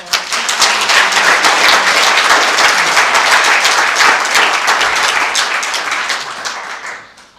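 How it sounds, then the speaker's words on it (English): Audience applause at a chamber of commerce luncheon on active shooter preparedness, a dense sustained clapping that stays loud and steady for most of the stretch before fading out near the end. "Can I get another round of applause for?"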